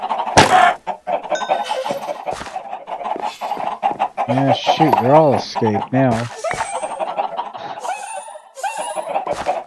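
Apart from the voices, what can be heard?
Minecraft chickens clucking, from a video game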